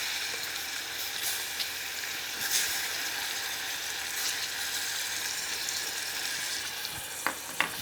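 Pear pieces sizzle steadily in melted butter and olive oil in a pan with a teaspoon of lemon juice, a continuous close frying hiss with a few faint clicks near the end.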